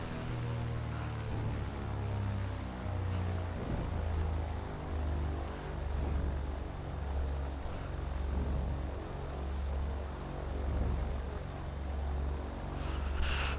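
Propeller engine of a Maule MT-7-235 plane in the X-Plane flight simulator, a steady droning hum with a slow pulsing throb, close and continuous, with no voices.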